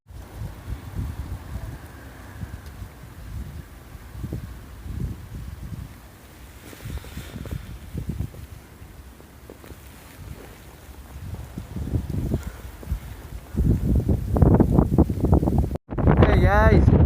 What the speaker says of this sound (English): You can probably hear the wind whipping.